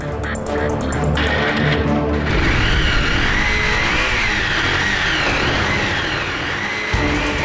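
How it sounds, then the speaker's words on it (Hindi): A motorcycle that has stood in a garage for a long time starts up, its engine catching and settling into a loud, steady running drone that fills the clip, close by, with no talk. "अगर इतने दिनों से बाइक गैरेज में खड़ी हुई है तो उसे स्टार्ट भी नहीं होना चाहिए"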